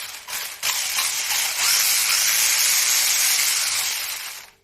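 A WLToys 144001 RC car drivetrain whirs steadily with a slight grinding rasp from its repaired differential, loud and close, after a couple of short clicks at the start, then dies away at the end.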